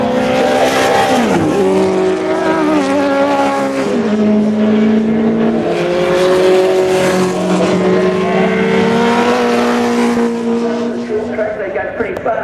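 A 1971 Honda racing motorcycle runs past loud and close with a steady engine drone that holds its pitch and shifts slightly, mixed with other race vehicles at a festival of speed; a commentator talks over it.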